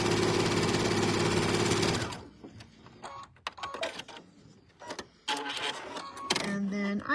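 A sewing machine stitches a quilt pinwheel block in a fast, steady whirring run for about two seconds, then stops. Handling clicks and a voice follow, and a short mechanical buzz returns near the end.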